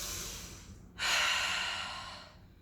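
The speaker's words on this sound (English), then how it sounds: "So let me just take a deep breath." A deep breath during a Kundalini solar plexus breathing exercise: one long, close, airy inhalation that starts abruptly and fades out slowly.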